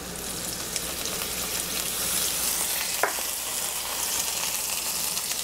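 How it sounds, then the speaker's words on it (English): Cipollini onions and chopped garlic sizzle steadily in hot olive oil in a pan, a continuous close crackling hiss with one brief scrape partway through. "I'm gonna drop my Cipollini onions down in my hot pan"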